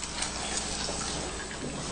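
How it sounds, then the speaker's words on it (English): Tap water runs steadily to rinse wet paper during photo lithography on clay, a continuous close splashing rush at even loudness, with no voices. "One more time with rinsing"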